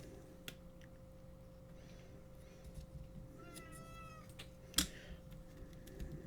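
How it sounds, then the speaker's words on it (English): A cat meows several times in a quiet indoor craft room, the calls rising and falling in a short run of mews at moderate closeness, with a sharp tap and light rustling around them. "Now I've got the cat."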